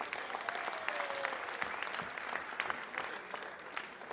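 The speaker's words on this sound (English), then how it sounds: "Can you clap for yourselves?" Audience at a public service day awards event applauding, a steady patter of many hands clapping at moderate volume, with a faint tone and some murmuring in the room.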